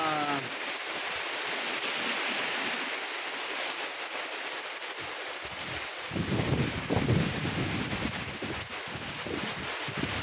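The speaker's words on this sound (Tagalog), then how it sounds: "Grabe kasi pang hangin." Strong gusting wind from Typhoon Bebinca roars steadily, mixed with a rain-like hiss, growing rougher and louder partway through; no voices.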